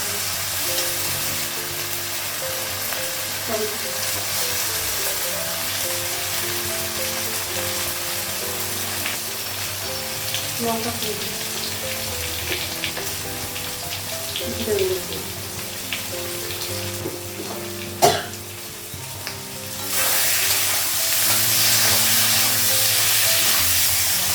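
Green chillies sizzle in a hot pan with a continuous hiss, occasional clinks of stirring, and the frying grows louder toward the end.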